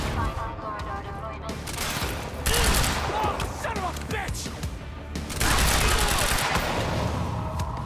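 Shotgun fire in the game Quantum Break, a loud rapid fusillade of blasts with clattering impacts that rises into a denser burst near the end, running throughout.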